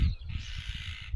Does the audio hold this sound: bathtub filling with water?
no